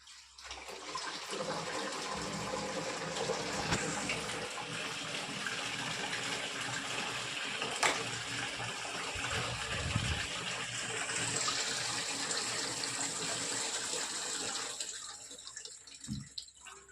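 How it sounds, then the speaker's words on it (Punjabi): Water pours steadily into the tank of an air cooler, producing a soft, continuous splashing gush that runs for many seconds and tapers off near the end, quiet and without speech. "ਲਓ ਜੀ ਆਪਾਂ ਪਾ ਰਹੇ ਆ ਕੂਲਰ ਚ ਪਾਣੀ"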